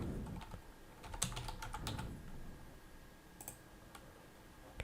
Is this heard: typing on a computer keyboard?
yes